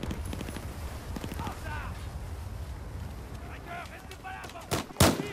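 Explosions and gunfire in the video game Battlefield 4: a steady rumble of distant blasts and shots, ending in a sharp, loud burst of explosions. Voices can be heard throughout.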